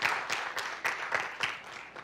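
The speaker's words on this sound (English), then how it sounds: "So a round of applause for them." Applause from an audience at a business keynote on negotiation: a light, fairly faint patter of clapping with a few sharper claps standing out, heard alone without talk.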